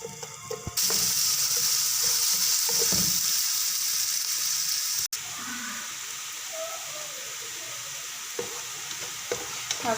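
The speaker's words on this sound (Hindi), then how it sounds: "इसमें प्याज डालूँगी मैं। इसको हमने लाइट ब्राउन करना है।" Onions frying in oil in a pan give a steady, bright sizzle with occasional stirring scrapes and a brief clatter midway, heard close with no talking.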